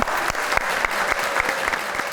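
Studio audience applause on a Pakistani talk show, dense steady clapping with a few sharper claps standing out, filling the whole moment with no talk over it.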